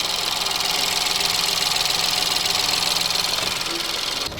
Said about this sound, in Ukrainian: Цікава робота в нього з трьохциліндрового двигуна.